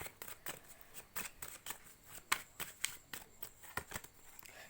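Tarot cards are shuffled by hand in a quiet room, a series of soft, quick riffling and flicking bursts with brief pauses, close and faint, without talking.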